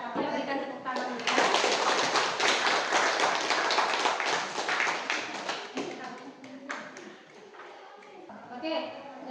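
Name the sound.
audience applause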